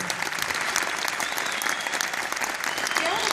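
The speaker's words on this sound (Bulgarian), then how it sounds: "Аплодисменти за него." Steady, dense applause from a crowd fills the whole stretch, loud and continuous without pause.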